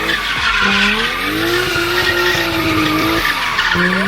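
Drift car tires spinning and sliding on track, a loud continuous squeal with a shifting tonal whine and engine roar running throughout, close and steady.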